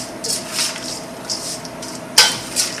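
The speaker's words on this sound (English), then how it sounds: "and my raisins and mix those into the warm mixture" Raisins stirred into a warm homemade granola mixture in a bowl, with soft scraping and clinking of a utensil in short strokes and one sharper knock near the end.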